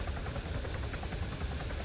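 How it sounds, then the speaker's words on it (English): Steady, low rotor thrum and engine drone of a helicopter descending to land in Arma 3, continuous and fairly close with no other sounds on top. "Make sure you don't land too fast either, because if you land too fast, you're going to end up damaging the helicopter."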